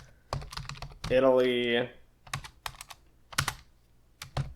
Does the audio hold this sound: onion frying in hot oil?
no